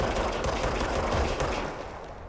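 Rapid automatic gunfire in the video game Control rattles continuously at close range, dense and loud with no pauses, tapering slightly toward the end.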